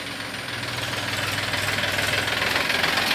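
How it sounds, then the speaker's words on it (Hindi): A Mahindra 265 tractor diesel engine idles steadily nearby in good condition, a continuous rough, knocking low rumble with a faint rhythmic pulse and no voices over it. "किसान भाइयों, आ रहा है महिंद्रा 265,"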